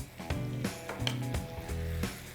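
Marinated chicken pieces with fried onions land in a hot pan for chicken chukka fry, sizzling steadily with a few soft stirring scrapes and clunks, close and moderately loud with no talking.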